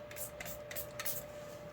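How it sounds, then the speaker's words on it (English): Several short hissing bursts from a spray bottle pass around the edges of a resin and glass mosaic tray, quiet and close with brief pauses between them. "just give this a quick spray around the edges"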